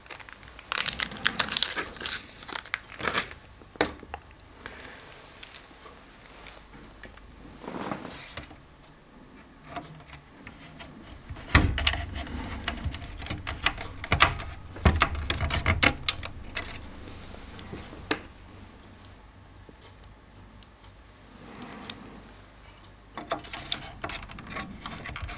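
Parts are screwed onto an Ecto-1 model kit, giving faint, scattered clicks, scrapes and brief rattling handling noises at close range, with quiet gaps between bursts.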